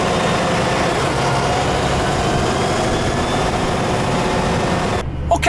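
A Volvo FH16 750 truck's 16.1-litre straight-six diesel engine gives a loud, steady low rumble heard from the cab, dropping away sharply at the very end.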